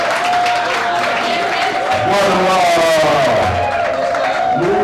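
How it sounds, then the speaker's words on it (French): A hall audience applauds during a diploma presentation ceremony in Montréal, with steady clapping running the whole time under a voice speaking over it. "Sous les applaudissements de la salle"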